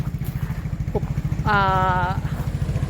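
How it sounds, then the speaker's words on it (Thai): A motorcycle used to ride out to dry-season rice fields idles with a steady, pulsing low putter close by. A voice speaks over it partway through. "พาหนะของเราก็คือมอเตอร์ไซค์ค่ะนูว พร้อมเสียมค่ะ"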